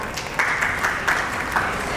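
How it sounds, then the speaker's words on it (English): An audience at a preschool annual day event applauds for dignitaries on stage, a dense, fairly soft patter of clapping with a few louder bursts over two seconds. "please give them a huge round of applause"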